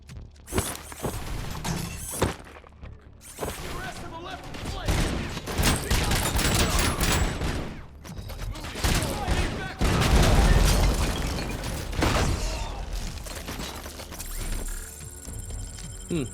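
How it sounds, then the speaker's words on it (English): Barrel exploding right next to the player in RoboCop Rogue City amid heavy gunfire, a loud close blast within dense bursts of shots and impacts, with people talking throughout. "I think they exploded the barrel, like right next to me."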